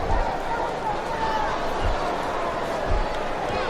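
A large arena crowd roars and swells in WWE Smackdown vs Raw 2007, a continuous dense murmur of cheering with a few low thumps underneath and some talk mixed in.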